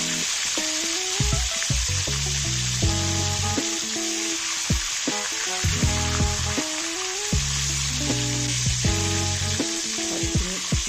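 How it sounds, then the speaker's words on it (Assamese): Brinjal (eggplant) pieces fry in hot oil in a pan, a steady, close sizzle running through the whole stretch, with intermittent tonal clatter and scraping of kitchen utensils. "জুইটো বঢ়াই দিলোঁ বঢ়াই দি লুটিয়াই ভাজি লওঁ বেঙেনাখিনি"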